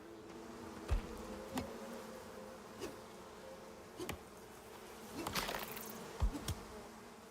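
A steady insect-like buzzing of bees in the video game Icarus drones under scattered soft clicks and thumps, with a brief louder swell near the end.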